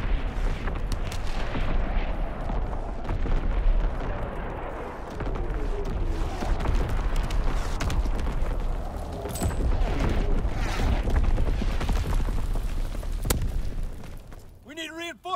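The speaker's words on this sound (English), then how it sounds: "Incoming enemy artillery! Get to cover!" Incoming enemy artillery pounds the battlefield in a game, with dense, continuous thuds, booms and blasts rumbling without pause, some nearer and sharper than others, under a shouted voice.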